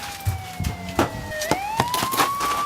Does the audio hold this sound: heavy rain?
no